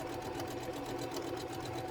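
Sewing machine stitching pieces of vintage quilt blocks, running as a fast, steady mechanical whir and rapid needle clatter, close and continuous with no talking.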